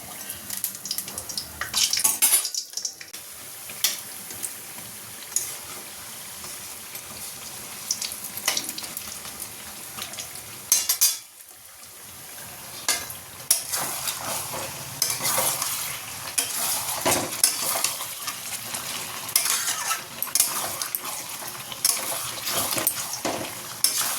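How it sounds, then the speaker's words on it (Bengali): Eggplant and homegrown cauliflower fritters fry in a pan, a steady sizzle broken by stirring and clinks of utensil on cookware, close and fairly loud with brief pauses. "এখন ভাজবো বেগুনি আর ফুলকপি, আমাদের গাছের ফুলকপি, অল্প একটুখানি বড়া বানাবো"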